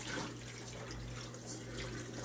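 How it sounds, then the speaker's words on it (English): Tap water poured out of a container into a sink during gold recovery from jeweler's workbench drawer sweeps, a steady, quiet splashing flow that runs continuously without pause and with no talk. "Now I'm going to dump the tap water out."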